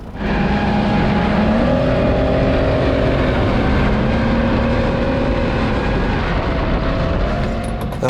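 The engine of an American M113 armored personnel carrier drones steadily and loudly throughout, a low rumbling hum with shifting tone, close by.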